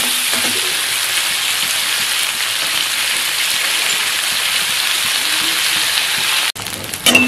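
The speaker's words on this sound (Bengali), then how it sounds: "পেঁয়াজটা একটুখানি ভাজা ভাজা হয়ে নিই" Onion frying in hot oil in a pan for a Bengali chorchori, a continuous dense sizzle close up, briefly cut near the end by a short clatter and shift, no voices.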